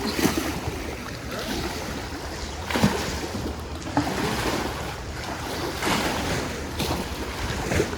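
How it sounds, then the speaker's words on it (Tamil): Water laps and washes steadily at the lakeshore in Brunnen, a continuous close splashing with wind noise and a few louder surges, with no talking. "தண்ணி சத்தம் எல்லாம் கேட்குது"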